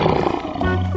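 A lion gives one loud, close roar that fills the whole brief moment, a deep rough growl that swells and holds.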